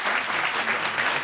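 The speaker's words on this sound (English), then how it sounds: "Let's give them a warm round of applause." An audience applauds panelists at a talk on hiring, with dense, steady clapping from many hands filling the room at a close, even level.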